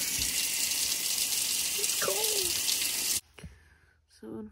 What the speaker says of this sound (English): Taking a shower with the bamboo.